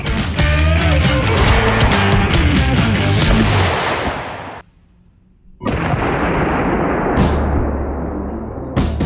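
A shotgun fires at an epoxy-coated test panel, producing a loud, dense blast that fills the first few seconds, then a short near-silence before a second burst of noise and a sharp crack.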